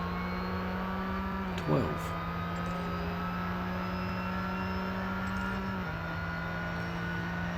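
Ford GT engine in Real Racing 3 holding a steady, droning hum, with a brief rising rev early on and a slight drop in pitch near the end.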